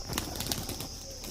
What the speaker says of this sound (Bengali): আচ্ছা এই পায়রা দুটো ছেড়ে দাও, একটু ছেড়ে দাও কেমন